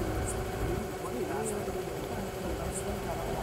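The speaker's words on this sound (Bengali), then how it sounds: "নৌকাটা চলছে।" A moving river boat's engine gives a steady, unbroken low drone near Mayapur ghat, with muffled voices over it.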